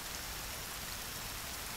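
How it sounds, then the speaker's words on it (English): Rain falls steadily in the survival game The Forest as a continuous, even, dense hiss with no pauses and no voices. "this rain is really affecting my FPS"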